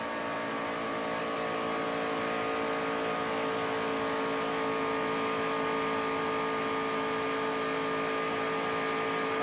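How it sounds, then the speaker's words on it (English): A 1993 NASCAR stock car engine at Daytona roars steadily at full throttle, loud and continuous with a sustained high whine and no break. "Listen to the motor in this thing."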